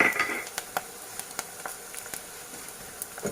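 Edible gum (gond) pieces frying in hot oil for Sindhi khorak, a soft steady sizzle with scattered small pops and crackles, close and quiet, with no voices.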